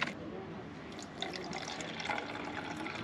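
Fizzy Norwegian apple soda poured into a glass, a quiet, steady liquid fill with small splashes and faint fizzing, heard close up and fairly soft.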